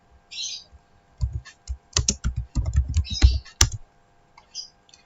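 Keystrokes on a computer keyboard as a command is typed into a router terminal, coming in irregular bursts of crisp clicks, fairly close and clear, with a few short pauses and no voice.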